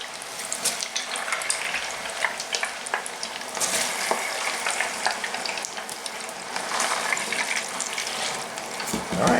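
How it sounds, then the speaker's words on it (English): Potato fries and fish sticks crackle and sizzle in oil in a Presto GranPappy electric deep fryer, a steady bubbling hiss with scattered sharp pops, close and continuous throughout with no talking. "I'm going to continue to fry these fries. We'll get those fish sticks in there as well."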